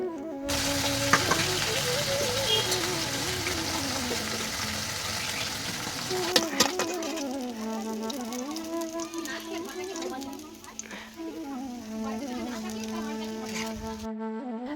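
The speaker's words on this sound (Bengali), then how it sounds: "মাছটা ভেজে নিচ্ছি" Fish frying in a pan makes a steady, close sizzle that runs under a voice and other tonal household sounds for most of the stretch.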